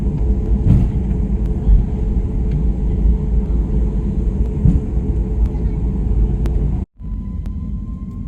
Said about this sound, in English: that's us taking off basically in any second now. Like the plane was really accelerating pretty quickly